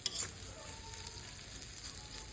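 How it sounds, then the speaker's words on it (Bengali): Chopped onions fry in oil in a wok while being stirred, giving a soft, steady sizzle with a light scrape of the spoon at the start, fairly quiet and without talk. "পেঁয়াজগুলোকে নাড়তে থাকবো"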